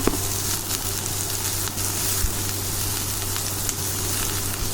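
Chopped onion and green chillies sautéing in oil for a brinjal bharta side dish, a continuous dense sizzle close by with faint occasional crackles, no voices.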